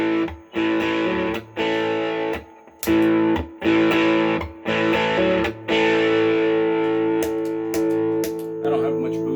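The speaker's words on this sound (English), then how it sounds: "the boost is after the overdrive distortion gain sound" Electric guitar through a heavy overdrive distortion pedal with a boost after it, a series of sustained crunchy chords with brief stops between them, loud and up close.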